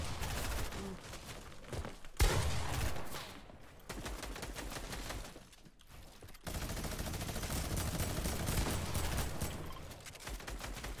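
Video game gunfire crackles in rapid, repeated bursts from a fast-firing weapon during a duo arena match, with brief lulls between volleys and a sharp shot standing out near the start.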